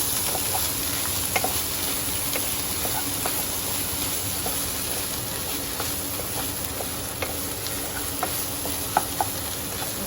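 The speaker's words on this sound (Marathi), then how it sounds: "सो आतां आमी एड करया इंतू आमगेलें टोमॅटो. सो टोमॅटो बरें भाजून घेया." Tomatoes sizzle and fry in a pan with browned onions for Goan cooking, a steady hiss broken by scattered light clicks and scrapes of a spoon stirring, with no talking.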